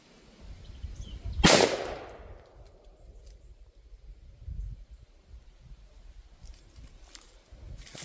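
A single loud shotgun blast from a dove or squirrel hunt in the woods, sharp and close, fades into quiet outdoor rustling with faint movement afterward.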